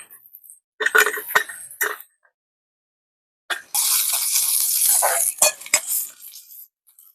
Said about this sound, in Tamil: வெங்காயம் வந்து நல்லா பொரிக்கணும்.